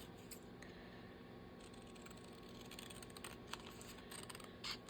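Scissors trim paper close by for a steady run of soft snipping, sliding cuts, with a slightly sharper snip near the end and no voices.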